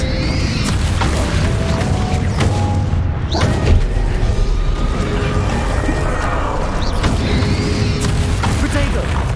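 Spell blasts in Hogwarts Legacy as Depulsor, Confringo and Expelliarmus are cast, loud bursts and impacts over constant combat noise, with a voice chanting spell names throughout.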